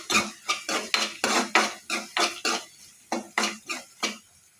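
A spoon scraping and clinking in a pan as salt, turmeric and spices are stirred together for a Telugu amaranth leaf curry: about a dozen rhythmic metallic strokes, close and clear, with no talk.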